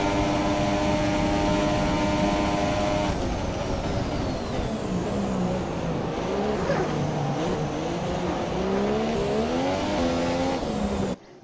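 Race car engine in the F1 2017 video game at Monza, a loud high-pitched whine that holds steady, then drops and rises again with wheel-spin revving and tire squeal, cutting off abruptly at the end.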